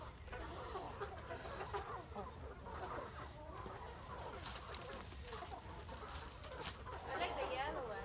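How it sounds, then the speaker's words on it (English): Chickens cluck and chatter continuously close by, with people talking in the background over a steady low rumble. "Look at how beautiful those black chickens are."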